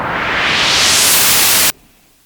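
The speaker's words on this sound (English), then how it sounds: "when we turn the resonance down a bit and turn the cutoff knob, you get wind sounds" A synthesizer filter sweep: a burst of hissing noise sweeps steadily upward in pitch like rising wind, loud and close, then cuts off abruptly into near silence.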